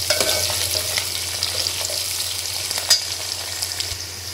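Onions browning in a frying pan for lauki gosht crackle in a loud, steady sizzle close up, with faint stirring scrapes and one sharper clink partway through, no voices.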